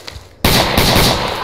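A single loud gunshot in the Vietnam-era Arma 3 combat scenario cracks sharply out of near silence, followed by a long rolling echo that fades slowly across the rest of the moment.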